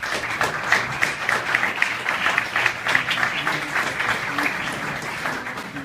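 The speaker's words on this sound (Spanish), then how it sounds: "Nuevamente, un fuerte aplauso, por favor." Steady, sustained applause from a seated audience at a panel discussion on human rights and the accusatory criminal justice system, a dense field of clapping continuing evenly for several seconds without a break.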